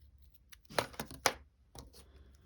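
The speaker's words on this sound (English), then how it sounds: "I'm going to cut it a little bit" Scissors snip through card stock in a quiet indoor craft setting, a few distinct close cuts with short pauses between them, no talking.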